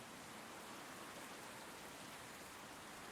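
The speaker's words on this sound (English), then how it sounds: "It is in fact raining now" Rain in the flight-control game Tower! Sim 3, heard as steady, even hiss that stays faint and unbroken throughout, with no voices over it.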